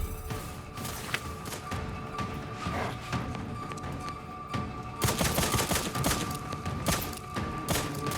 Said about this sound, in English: Are they shooting stuff from all the way over there?